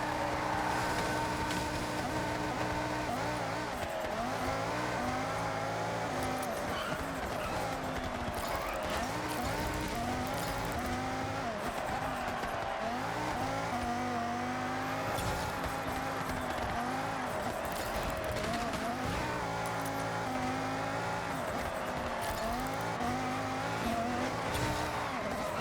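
Engine of a very fast car roaring steadily through a touge and street battle in Forza Horizon 6, a loud continuous drone with shifting revs and occasional tire squeal, no talking.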